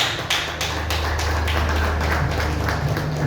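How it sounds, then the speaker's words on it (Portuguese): A church congregation applauds together in a steady burst of dense clapping with a low hum underneath, loud and close throughout. "Vamos aplaudir bem forte"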